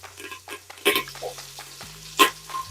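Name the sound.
onion, garlic and curry leaves frying in a pan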